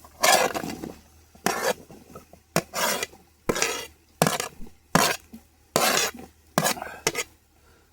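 Rhythmic scraping and swishing as mushrooms are stirred in a pot for mushroom biryani, about a dozen strokes at a steady pace, close and without talk.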